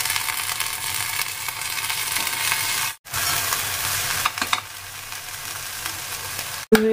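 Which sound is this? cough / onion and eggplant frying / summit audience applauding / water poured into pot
onion and eggplant frying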